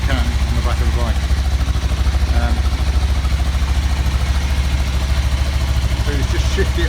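A Kawasaki GPZ500S motorcycle with a large aftermarket exhaust can idles steadily while warming up, a continuous low throbbing engine note close by, with someone talking over it.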